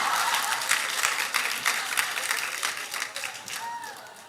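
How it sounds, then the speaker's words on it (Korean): A congregation claps and applauds in a hall during the third morning session of a church revival gathering in Naju, a dense steady patter of many hands that slowly thins and fades, with faint talk underneath. "박수 그만 쳐"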